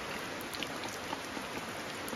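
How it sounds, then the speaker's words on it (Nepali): Rain falls steadily, a dense, even hiss of drops on surfaces close by, continuous and unbroken with no voices. "पानी फेरि पर्यो"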